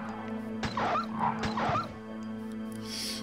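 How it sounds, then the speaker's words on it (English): Dogs in the 1996 Resident Evil video game bark sharply twice, then yip and whimper, loud and close over a low steady drone before fading to hiss. "These dogs eventually die?"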